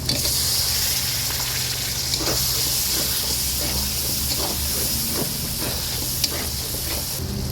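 Tomato goes into frying masala with a little sugar, raising a loud, steady close sizzle and hiss that runs throughout with faint stirring scrapes underneath.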